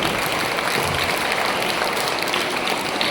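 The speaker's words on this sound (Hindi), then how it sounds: "तो जोरदार तालियां बज लीजिए जितना अच्छा प्रोग्राम हुआ।" Audience applause at a school program, a steady dense wash of clapping that runs at an even level for the whole stretch without pauses or voices.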